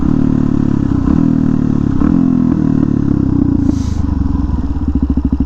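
A supermoto motorcycle rides around town with its engine loud and close throughout, a steady rumbling drone that rises and falls slightly with throttle, ending in a choppier, pulsing idle-like putter.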